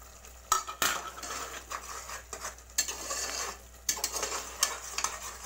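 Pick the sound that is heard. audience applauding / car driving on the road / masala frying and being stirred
masala frying and being stirred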